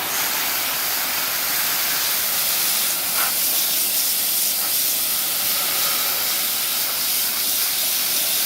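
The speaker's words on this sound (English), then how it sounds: "we're going to take and just hit it with a hose and wash down these fins" A garden hose sprays water steadily onto the fins of a window air conditioner outdoors, producing a continuous, loud broadband hiss with a few faint taps throughout.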